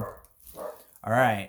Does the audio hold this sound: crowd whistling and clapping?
no